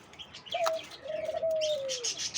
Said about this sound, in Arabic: يمام ماسي.